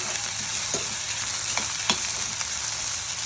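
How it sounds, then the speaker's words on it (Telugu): Peas, onions, carrot and tomato frying in oil for upma, a continuous bright sizzle with a few soft clicks and scrapes from stirring, close and steady with no talking. "బఠానీ తర్వాత ఆనియన్స్ ఆనియన్స్ కూడా ఫ్రై అయ్యాక క్యారెట్ టమాటా వేసుకుందాం"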